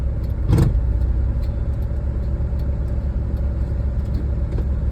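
A car driven by a learner working the clutch, its engine giving a steady, close low rumble throughout, with one brief knock near the start and no talk.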